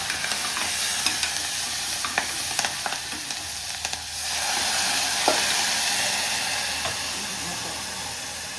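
Spices and green chillies are dropped into hot oil for tempering in a village kitchen, giving a loud, steady sizzle with some crackling and stirring clicks up close and no voices.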